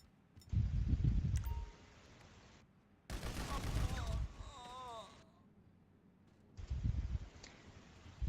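Gunfire in Grand Theft Auto V, a few short loud bursts of shots separated by quieter gaps, close and punchy.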